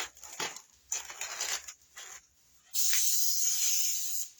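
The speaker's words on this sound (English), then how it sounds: "Now I'm spraying the paper" A few soft rustling bursts of handling, then a loud, continuous hiss of an aerosol spray can spraying paper close by for nearly two seconds.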